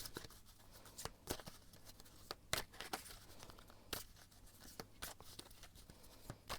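Tarot cards shuffled by hand during a card reading, close and quiet, with irregular sharp riffles and slaps scattered among soft papery rustling.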